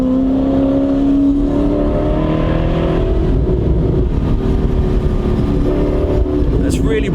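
An Alfa Romeo engine revving hard at high RPM, a loud continuous rising drone with strong harmonics, close and sustained for the whole stretch, with a voice faintly mixed under it.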